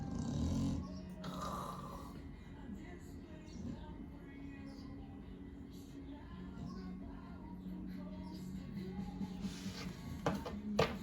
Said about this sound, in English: And she snores really loud.